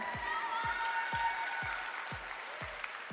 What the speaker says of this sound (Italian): Un applauso particolare ad Antonella Tisato.